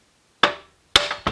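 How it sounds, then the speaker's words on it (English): A 4-pound hammer strikes a part of a B7 RS4 engine during belt and tensioner removal, with three loud, sharp metallic blows close by, the first alone and the last two in quick succession. "Took a little shock from a 4-pound hammer."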